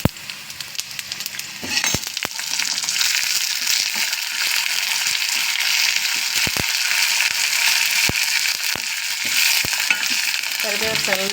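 Curry leaves dropped into hot oil crackle and sizzle loudly and continuously at close range, with a few sharp clicks of a spoon against the pan and no talking.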